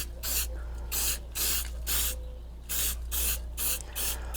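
Spray primer hissing from an aerosol can onto a large freehand-carved wooden cabin sign, in about eight short, close bursts with brief pauses between them and no talk.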